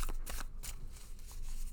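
Tarot cards from an antique anatomy deck being shuffled by hand on a table, a quick run of dry riffling and slapping bursts that carries through the whole clip with no talking.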